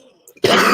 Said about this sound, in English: We're starting today off with a weed cough.